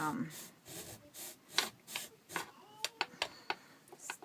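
Sandpaper rubbed back and forth on a small piece of cork, making soft rasping strokes in a steady rhythm and then sharper scratches near the end, close and fairly quiet.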